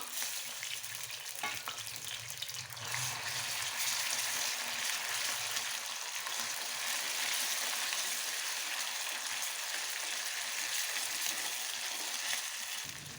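Cumin seeds and ground masala fry in hot oil for a drumstick-pod bhaji, making a close, continuous crackling sizzle with a faint scraping of stirring and no talking.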